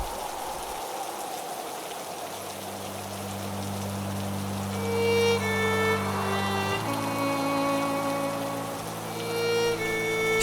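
Steady rain patters in a continuous wash while sustained musical tones rise and shift over it, with no talking.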